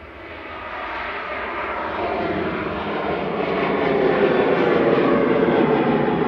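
A Ryanair airliner takes off at Manchester Airport, its jet engines building into a loud, broad roar that keeps rising steadily over several seconds, with no voices.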